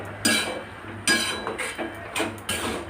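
Dried peas (matar chola) being stirred and sautéed with spices in a metal pan, with a spoon scraping and knocking against the pan in several separate strokes over a low steady hum, close and fairly loud.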